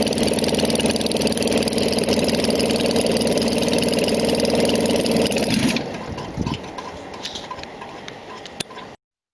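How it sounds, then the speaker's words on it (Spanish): A general aviation piston aircraft engine with magneto ignition runs loud and steady on a test stand, then cuts out abruptly when its relay is grounded, leaving a faint winding-down rattle and a few soft ticks before silence. "Y ahí se detiene el motor, tan solo poniendo a masa el relé."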